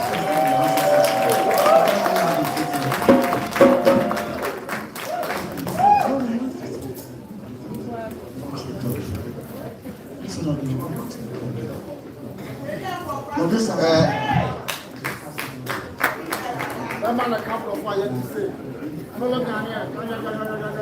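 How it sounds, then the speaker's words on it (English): Audience applause at an NDC conference in Amsterdam, a loose, scattered round of clapping that rises and falls over a crowded hall, mixed with chatter and a voice talking over it. "Can we give a round of applause?"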